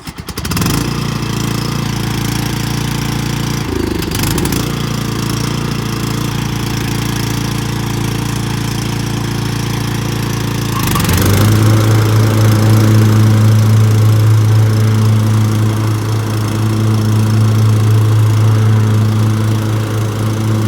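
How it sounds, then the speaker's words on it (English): A lawnmower engine runs steadily and close by with a rough, droning hum, rising a little louder and throatier partway through. "It's a lawnmower."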